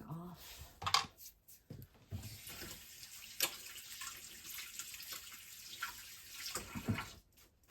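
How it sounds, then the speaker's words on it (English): Tap water running into a kitchen sink during a hand wash between folds of sourdough, a faint splashing stream with a few clinks and knocks, and someone speaking briefly. "Let me quickly wash my hands."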